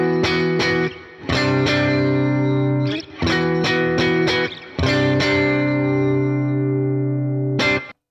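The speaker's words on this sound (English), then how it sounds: "The guitar sound without the delay sounds like this." Distorted electric guitar chords strummed in bursts and left to ring, loud and dry with no repeating echoes, with brief breaks between phrases.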